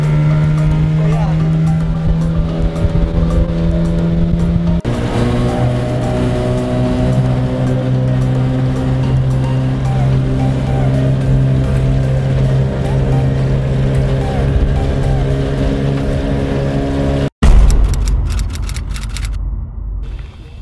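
A small 15 horsepower motorboat running on a lake at Cuyamaca, with a loud, steady droning engine close by that shifts pitch partway through and ends in a sharp knock and rustling.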